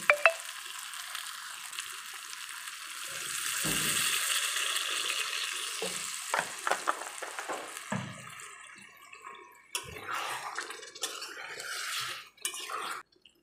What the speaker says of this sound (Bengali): এবারে আমি এই ডিম আর আলু কষাটার মধ্যে আমি পরিমাণ মতন জল দিয়ে দিচ্ছি।